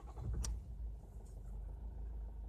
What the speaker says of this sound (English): I will switch on the engine.